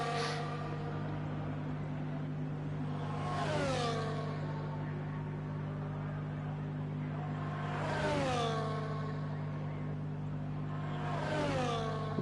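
Formula One cars in the F1 24 racing game at Monza's Curva Grande scream past in three separate high-pitched passes, each rising then falling away as they shift down, over a steady low hum and no talk.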